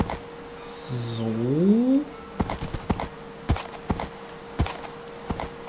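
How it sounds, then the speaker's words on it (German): Horse hooves clip-clop in Minecraft as a sharp, irregular run of near clicks and thuds, following a rising gliding tone with a steady hum beneath. "Es ist halt einfach nur ein super Pferd."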